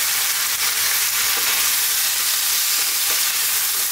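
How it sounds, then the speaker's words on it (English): Potatoes sizzle and crackle steadily in a hot pan over high heat, with faint scraping as they are stirred, close and continuous with no talk. "Okay, now again, maybe 2 minutes on this high heat. Stirring pretty much all the time."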